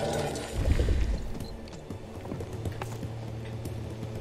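A horse galloping in the video game King's Bounty 2: steady rhythmic hoof clops at a quick pace over a low rumble, with a heavier thud early on and no speech.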